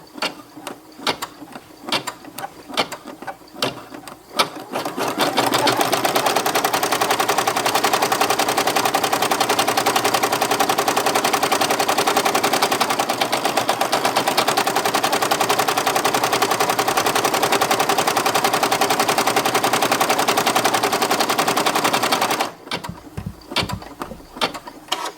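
An embroidery machine stitching a patch with shiny gold thread runs in a steady, loud, fast mechanical rattle of needle strokes for about seventeen seconds, with quieter handling noises before and after.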